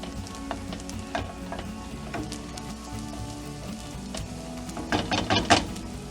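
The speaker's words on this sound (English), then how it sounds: "just warming the bacon through. Let it release those residual oils." Bacon warming through in a pan and releasing its oils, a low continuous sizzle with scattered crackles and a burst of brighter spitting near the end, no one talking.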